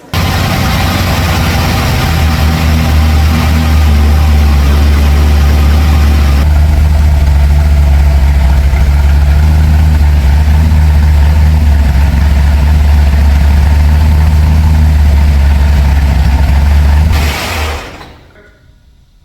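A 1969 Ford Mustang Boss 302 V8 with an aggressive cam idles loudly and choppily close by for about seventeen seconds, then shuts off abruptly and the rumble dies away.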